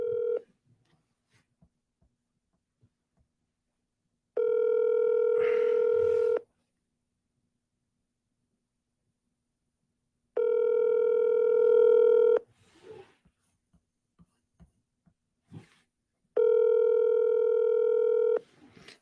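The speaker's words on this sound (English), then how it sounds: "So I'm giving them a call." Telephone tones sound while a call is being placed: three long, steady electronic tones of about two seconds each, separated by quiet gaps with faint clicks and small handling noises.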